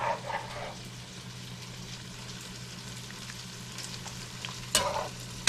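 Stew curry with potatoes simmering in a pot on low to medium heat, a soft steady bubbling and faint sizzle under a low hum, with a sharper clatter or stir near the end.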